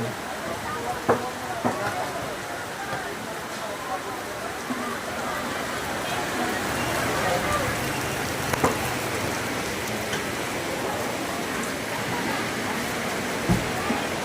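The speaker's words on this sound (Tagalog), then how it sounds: "Ulan na naman, ha ulan." Rain falls steadily in San Leon, Balungao, a constant even hiss of drops on surfaces with a few louder drips along the way.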